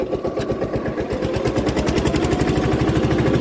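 A tractor engine chugs steadily with a fast, even rhythmic pulse, close and loud, running alone without voices.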